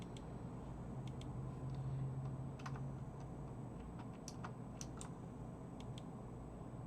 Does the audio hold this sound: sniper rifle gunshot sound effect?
no